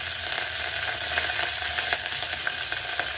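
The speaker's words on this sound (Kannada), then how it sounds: "ಎಣ್ಣೆ ಕಾದಿದೆ. 1 ಸ್ಪೂನು ಸಾಸಿವೆ, 1 ಸ್ಪೂನು ಜೀರಿಗೆ, ಇದಾಗಿದೆ. ಕರಿಬೇವು" Mustard seeds, cumin and curry leaves sizzle in hot oil in a pan, a dense, steady crackling hiss with scattered pops, close and loud with no voices.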